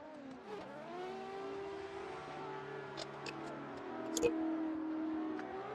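A Toyota GT86-type car drives on a race track, its engine droning steadily with a rising and falling whine and brief bursts of revving, slightly distant.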